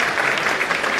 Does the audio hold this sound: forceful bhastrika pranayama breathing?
no